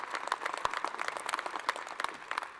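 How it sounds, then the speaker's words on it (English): An audience at a small-business event in Savannah, Georgia gives a round of applause, steady moderately loud clapping throughout the short stretch with a few sharper individual claps standing out. "So give them a round of applause as we build that out."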